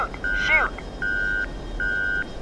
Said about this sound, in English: And we've got a lock.